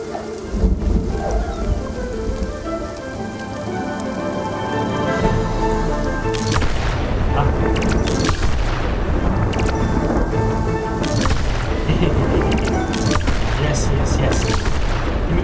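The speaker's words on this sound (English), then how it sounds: "Oh, the lightning!" Thunderstorm with lightning in the video game Spiritfarer: steady heavy rain throughout, with loud rolling thunder booms and cracks arriving in bursts during the second half, some voice faintly mixed in.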